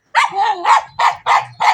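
A dog barks five times in quick succession close by outdoors, loud sharp barks with short gaps and no speech.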